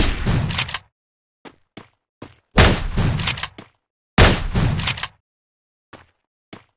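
A weapon with area-effect shots fires in the Free Fire video game: three loud, booming blasts with rumbling tails, separated by brief silences and small clicks, close and without speech.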